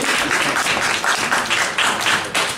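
An audience at a comedy night applauds the host, a steady wash of dense clapping from many hands that holds at a loud level throughout with slight swells.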